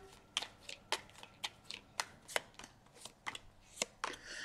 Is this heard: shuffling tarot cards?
yes